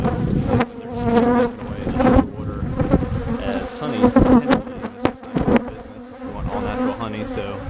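Honeybees at a hive being fed from a 2-gallon pail swarm with a dense, close, loud buzz that swells and dips as individual bees pass near, continuous with no talk.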